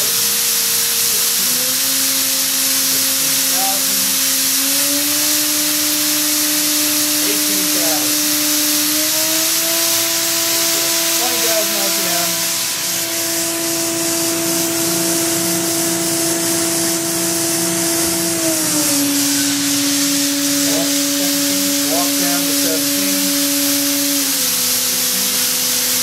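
A 2005 Makino a51 machining center's spindle spins at high speed, a steady close whine over a broad airy hiss that steps up in pitch at several points, then drops back down near the end.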